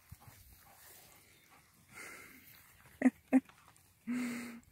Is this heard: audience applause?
no